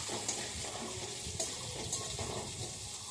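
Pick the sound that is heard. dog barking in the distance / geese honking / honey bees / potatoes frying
potatoes frying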